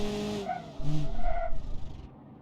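A car in BeamNG.Drive slowing down as its worn-out engine dies on a racing circuit: a fading, wavering engine whine with tyre noise dropping away to near silence.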